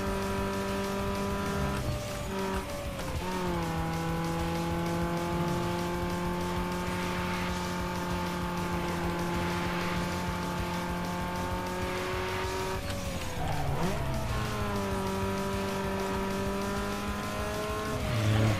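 Race cars in the Need for Speed Underground 2 video game: a loud sustained engine whine climbing through the gears, with sharp drops at shifts and tire squeal through the corners, no talking.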